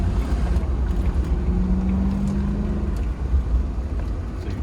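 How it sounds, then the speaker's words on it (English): Supercharged V8 of a Jaguar X308 while driving: a steady, loud low-end engine drone fills the cabin throughout, with a faint whine rising briefly midway, and no talking. "Supercharged V8, it uses up so much fuel."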